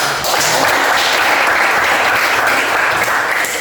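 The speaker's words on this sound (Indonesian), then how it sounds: "Oke baik, tepuk tangan dulu." Classroom applause as students clap together in a lesson, a loud, dense and continuous burst of hands that holds steady throughout before tapering off.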